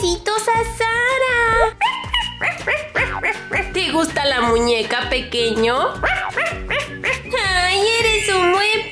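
A small dog yips, barks and whimpers in quick high-pitched bursts, close and loud, mixed in among the excited talk of someone speaking to it.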